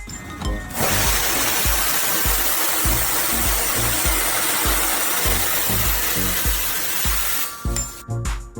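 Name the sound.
high-speed circular saw cutting thick metal pipe into rings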